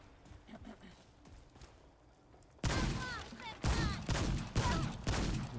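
Rapid gunfire in the video game Remnant 2, a series of loud sharp shots bursting in after a quieter stretch and repeating in quick volleys, with someone talking faintly underneath.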